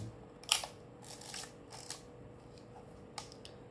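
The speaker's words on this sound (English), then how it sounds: "The shutter I fixed myself, and now it fires at will." A Yashica 1C 14E film camera with a repaired shutter fires several times, giving sharp, close mechanical clicks spaced irregularly over a low background hum.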